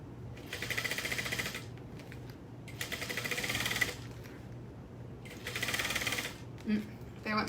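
A home sewing machine runs in three quick, rattling bursts separated by short pauses as the bobbin thread runs out, with a little faint background noise between runs.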